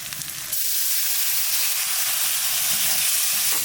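Potatoes and spices with turmeric and salt sauté in a pan, starting with a few stirring clatters before a loud, steady sizzling hiss takes over and holds to the end.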